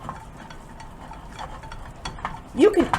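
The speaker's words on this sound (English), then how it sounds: "And you go ahead and you whisk that." Pork rinds, butter and eggs whisked in a bowl for a keto soufflé, soft scraping strokes that grow louder and more vigorous toward the end, close up.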